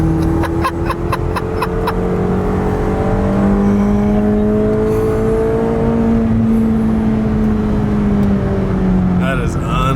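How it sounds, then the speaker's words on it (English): McLaren exhaust note under hard acceleration on a back road, a loud, rising engine howl that climbs and shifts pitch steadily, with brief voices near the end. "That exhaust note is freaking amazing."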